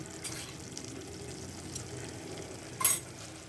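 Cumin and mustard seeds fry in oil in a pan, giving a soft, steady close sizzle with light crackles and a brief louder pop of spattering near the end.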